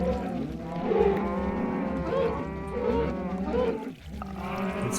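Several cows moo in overlapping, drawn-out calls inside an enclosed chamber in Minecraft, fairly loud and continuous, with a brief dip before the lowing resumes.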